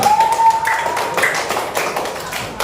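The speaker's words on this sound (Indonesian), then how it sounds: "tepuk tangan buat Ardian" A classroom of students applauds a classmate, a dense, steady patter of many hands clapping close by, with a brief high whistle-like tone near the start.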